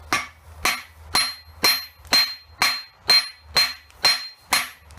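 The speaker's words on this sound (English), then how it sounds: "I got my piece of steel here, and we're just gonna whack it" A hammer strikes a piece of steel ten times in an even, steady rhythm, each blow a sharp, ringing clang that fades before the next.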